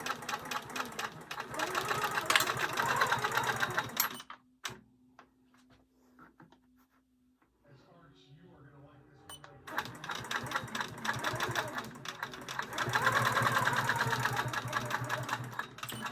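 A sewing machine quilts with a ruler foot through a quilt top layered onto a blanket backing, running in two long steady stretches of rapid needle rattle with a quiet pause between.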